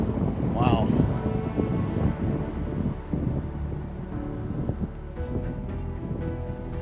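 Tornado winds estimated at 90 to 97 mph batter a truck, a heavy continuous roar and buffeting of wind against the microphone with thumps and rattles, while a voice is heard over it.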